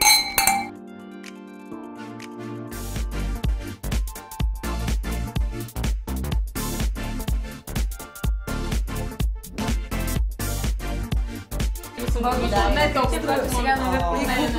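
Glasses clink together in a celebratory toast at a finale gathering, a cluster of bright chinks and rings over lively background music, with people talking and cheering around them.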